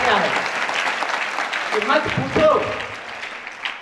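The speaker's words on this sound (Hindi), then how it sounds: "अब अंतिम पंक्ति में आपकी तालियां चाहूंगा" An audience at a school event claps together during a Hindi poem recitation, a broad wash of applause that swells and fades while a speaker's voice continues over it.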